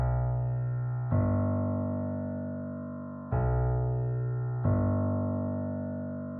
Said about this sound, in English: next I just added a simple like piano bass line stab